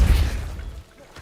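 A Capulso spell cast in Hogwarts Legacy lands as a deep, booming thump that rolls out at once and fades over about a second, with no talking over it.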